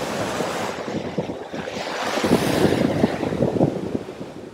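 Ocean surf breaks on the beach at the Ritz-Carlton Cancun as a steady wash of waves, with rumbling swells rising in the second half and gusts of wind buffeting the microphone.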